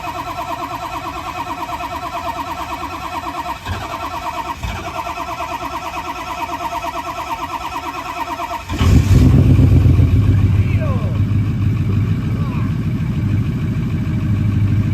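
A 6.0L Powerstroke diesel truck engine, with a misfire on cylinder number 4, idles steadily close up, then revs louder about halfway through and holds a heavier running drone.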